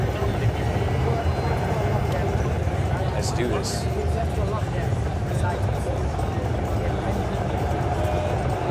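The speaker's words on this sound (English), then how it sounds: "we're firing up our little bird here, and we're just going to take it up in the air" Little Bird helicopter in Arma 3 spinning up for takeoff, a steady dense rotor and turbine drone that holds throughout at constant loudness, with a voice speaking briefly over it.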